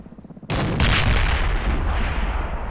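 A gun or armored vehicle firing in the Combat Mission Red Thunder wartime battle game, one sharp loud boom followed by a long rumbling echo.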